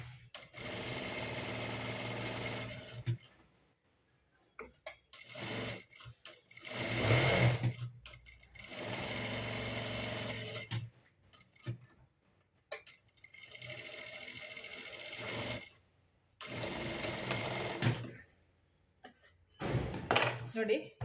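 A sewing machine stitching a shoulder strap runs in several sustained bursts separated by pauses, loud and close, with faint clinks between runs.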